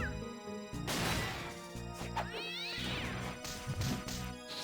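Cats meow repeatedly in the video game Castlevania: Dawn of Sorrow, with several loud, rising and falling cries alongside game hits and crashes.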